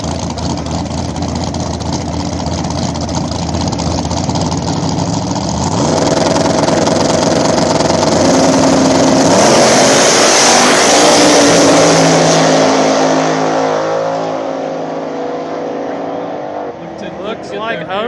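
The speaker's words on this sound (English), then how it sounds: "we got the Overdose Nitrous SS95. Come up in the far lane, taking on a Nitrous Fox out of Ohio" Nitrous small-tire drag cars, an SS95 and a Fox Mustang from Ohio, idling and revving at a back-of-the-track race: loud rough engine drone rising and falling, with a commentator talking over it.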